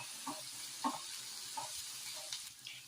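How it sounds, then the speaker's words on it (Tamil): Ginger garlic paste sautés in a pan for veg fried rice, giving a soft steady sizzle with a few faint stirring clinks, quiet and close. "இஞ்சி பூண்டு பேஸ்ட் ஆட் பண்ணதுக்கு அப்புறமா நல்லா வதக்கிக்கலாம்"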